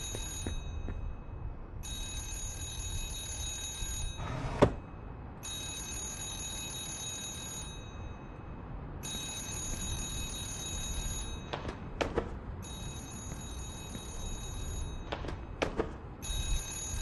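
A telephone rings behind a door in the video game Remothered Broken Porcelain, repeated bursts of bright electronic trilling a second or two long with pauses between, over low ambience and a few scattered thumps.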